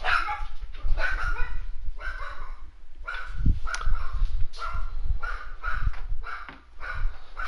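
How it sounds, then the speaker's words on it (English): A house dog barks frantically indoors in repeated loud bursts with short gaps between them, mixed with higher yips, close to the microphone. "there goes my dog going crazy"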